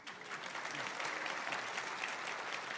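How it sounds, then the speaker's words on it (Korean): A church congregation applauding during a Korean service, sustained, even clapping from a crowd that builds slightly and holds steady, with no speech over it. "우리 잠깐 일어나 우리 박수하겠습니다"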